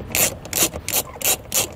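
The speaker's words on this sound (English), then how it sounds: "We'll take our ratchet." A hand ratchet loosening the nut on a Lippert RV baggage door turn latch, giving several quick bursts of sharp clicking in an uneven rhythm, close up and alone.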